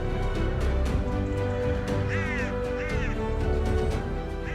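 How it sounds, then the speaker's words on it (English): A crow caws a couple of times, short harsh calls around the middle of the moment, set against a busy, steady background near white-tailed eagles on the Isle of Wight. "It's good to have a crow there for a bit of scale"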